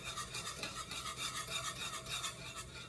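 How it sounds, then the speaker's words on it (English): A whisk stirs a salmon loaf mixture in small circles in a bowl, a continuous soft scraping and swishing with a steady rhythmic pulse, close and fairly quiet, with no talking. "And whisk away."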